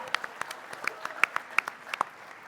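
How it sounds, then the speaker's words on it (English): Scattered, sparse handclaps from a small talent-show audience at a student athlete event for Austin, individual claps distinct and irregular rather than a full ovation, fairly quiet overall. "Let's give Austin another round of applause."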